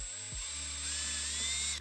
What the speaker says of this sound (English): I have to drill out a bunch of these parts.